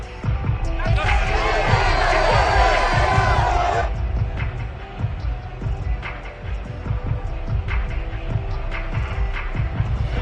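Home crowd in the Madden 22 football video game roars in a loud, dense cheer for about three seconds, then settles into a steady background murmur with scattered shouts.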